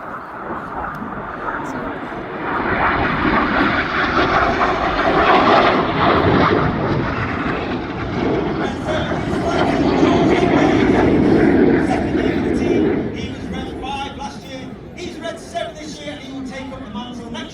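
Loud, sustained jet roar of RAF Red Arrows aircraft passing in close formation at the Midlands Air Festival, rising and swelling over about ten seconds before thinning out, with a commentator's voice running beneath.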